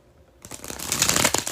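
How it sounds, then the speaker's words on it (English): A deck of playing cards riffled in a bridge shuffle, starting after a short quiet lead-in with a loud, close, dense rapid flutter of cards that keeps up to the end, no talking. "When I do the bridge shuffle, as I'm about to do"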